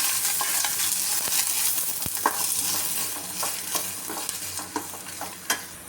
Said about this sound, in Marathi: कांदा लालसर परतून झालेला आहे